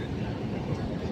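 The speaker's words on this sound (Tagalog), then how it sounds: "Oh, train" A train rumbles past in a short, steady low roar, fairly close, with a faint voice in the background.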